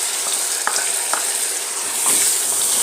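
Grated onions hit hot oil in a pan and hiss with a bright, constant frying sizzle, with a few light spatula taps and scrapes near the start.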